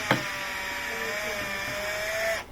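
A power screwdriver or small tool whirs steadily while removing security screws from a clothes iron, a sustained high whine after a sharp initial click, ending abruptly.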